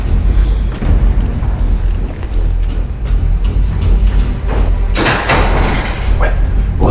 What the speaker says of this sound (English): You hear that door close?